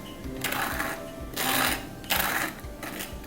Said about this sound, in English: From the top to bottom, scraping towards myself.